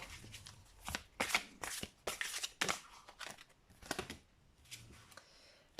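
Large angel tarot cards are shuffled by hand, giving repeated papery riffles and flicks in irregular bursts. The sound is quiet and close, with no one talking.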